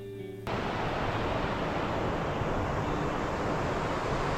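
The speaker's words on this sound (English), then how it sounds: "you will begin to hear the waters of the San Joaquin River" The San Joaquin River near Rainbow Falls gives a steady, broad rush of flowing water that begins suddenly and carries on evenly.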